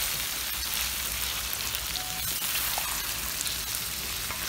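Turkey and vegetables sizzle steadily in a hot frying pan, a dense continuous crackle with small pops and no talking.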